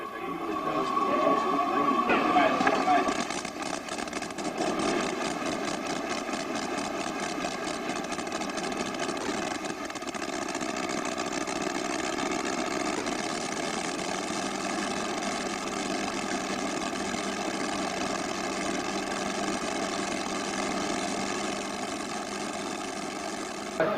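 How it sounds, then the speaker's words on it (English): A working model of a World War I Bentley rotary aircraft engine runs steadily with a buzzing, droning tone that rises briefly at the start, then settles into a constant hum. "This working model of a World War I Bentley rotary engine is a wonderful example of the modeller's art."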